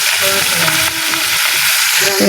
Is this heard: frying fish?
yes